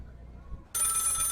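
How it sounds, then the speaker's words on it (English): A telephone rings in the video game Lil Guardsman, starting abruptly after a near-silent moment and holding as a bright, steady ring to the end. "Phone is ringing."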